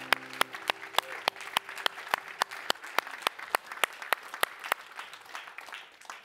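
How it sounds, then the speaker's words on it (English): A church congregation applauds, with one close, sharp clapper striking an even, rapid rhythm over softer scattered clapping from the room, gradually tapering off. "You know what's appropriate right now? A round of applause."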